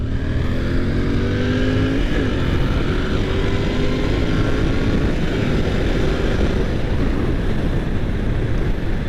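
A Royal Enfield Interceptor 650 twin-cylinder motorcycle engine runs steadily and loudly, its pitch rising and shifting as it is revved, with constant road and wind rush underneath.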